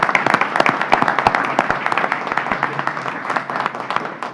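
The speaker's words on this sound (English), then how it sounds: "Round of applause to her." People at a county commissioners meeting give a round of applause, close and fairly loud clapping with sharp individual claps that thin out toward the end.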